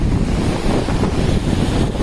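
Surf washes steadily onto the sand at Karon Beach in Phuket, a loud continuous rush of breaking waves close by, mixed with gusty wind buffeting the microphone, with no voices.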